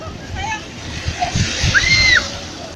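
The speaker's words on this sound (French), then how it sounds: "des vagues qui arrosent les côtes de la province autonome" Lake waves lap and slosh against the shore of Qinghai Lake in China, a steady watery wash under faint background voices and a few short high tones.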